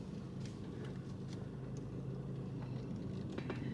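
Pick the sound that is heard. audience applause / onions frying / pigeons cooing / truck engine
truck engine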